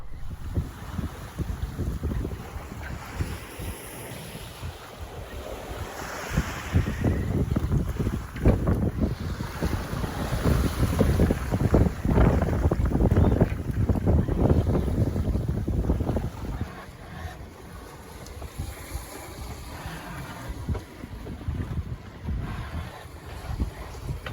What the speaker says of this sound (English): We had a nice sunny and windy downwind sailing